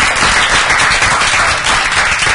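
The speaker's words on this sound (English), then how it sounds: "we owe the extraordinary panel a round of applause" Audience applause for a panel discussion, a steady dense wash of clapping from a crowd, loud and continuous throughout with no talking over it.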